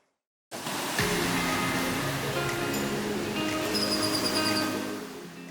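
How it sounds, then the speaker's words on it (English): Pacific surf crashing on the beach at Playa Blanca on the Costa Rica and Panama coast, a steady, loud, broadband roar of breaking waves that rushes in abruptly and continues without pause, with no talking. "The travelers are enchanted by the brilliant Pacific sunset and crashing waves at Playa Blanca."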